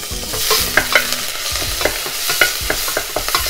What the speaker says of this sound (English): I'm going to put in the grated ginger and garlic.